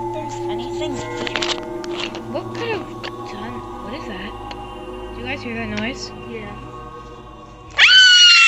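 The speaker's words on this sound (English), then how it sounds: "there was just screaming coming from that room again" Muffled, wavering screams drift from another room in an animated Five Nights at Freddy's mini movie over a constant mechanical hum. A sudden loud, shrill burst cuts in near the end.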